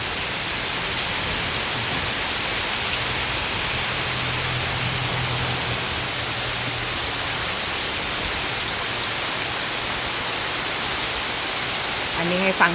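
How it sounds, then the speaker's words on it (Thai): Steady rain pours down in a dense, even hiss, with a low rumble of thunder swelling in the middle and a brief sharper sound near the end. No one speaks. "คนที่ชอบเสียงฟ้าเสียงฝนนะคะ"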